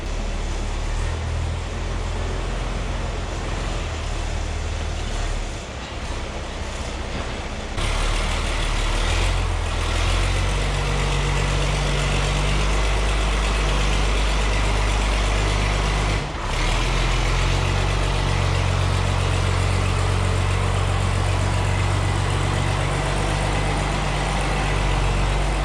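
Meyer F585 feed mixer running, a steady heavy low-frequency machinery drone with a constant engine rumble throughout and a brief shift in tone partway through, loud and continuous with no talking.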